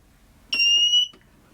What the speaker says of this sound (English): a working smoke alarm as well